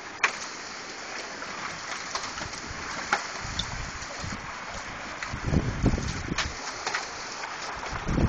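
Hail and heavy rain pound down in a thunderstorm with high winds at a pumpkin patch, heard close against a garage door as a dense, steady roar with scattered sharp impacts and gusting wind buffeting the microphone.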